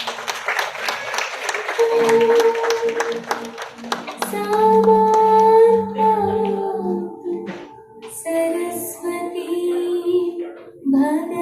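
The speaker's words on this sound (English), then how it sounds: "Friends, let's give a big round of applause." Applause at a Rotary club inauguration in Thane, clapping scattered early and then fading under sustained tonal music and chanting that carries most of the clip.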